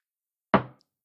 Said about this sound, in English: We've got a rim shot